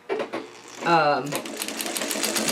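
A sewing machine stitches a pillowcase seam with a backstitch, its steady mechanical whir running close and under a person's talk for a couple of seconds.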